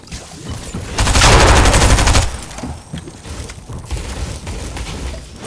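A close, loud burst of rapid automatic gunfire from a video game shooter lasts about a second, then thinner bursts and shots follow more faintly.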